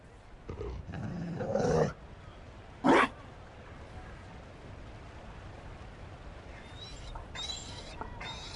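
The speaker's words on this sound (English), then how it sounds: "You found a dog. They don't breed Mabari in Olay." Mabari war dog in the Dragon Age video game, giving a few short, quiet growls and snarls in separate bursts against a faint background.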